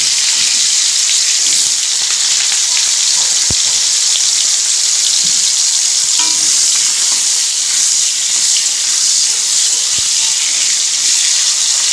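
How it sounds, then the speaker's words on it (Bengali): Potato pieces, salted, fry in hot oil in a wok for a Bengali vegetable curry, giving a steady, even hiss throughout with a couple of faint clicks and no talking. "আলুটা ভাজা হতে থাক"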